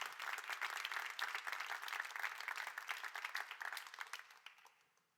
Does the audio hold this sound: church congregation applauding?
yes